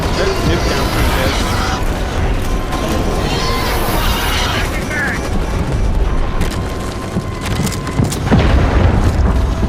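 A nuke explosion in the Starship Troopers: Extermination video game, a loud, sustained rumbling boom filling the whole stretch amid battle noise and occasional gunfire.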